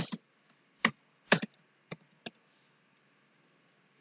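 Code being typed on a computer keyboard while building a login form for a Windows point-of-sale application: a few sparse, crisp key taps, irregular and close, then quiet gaps with no talk.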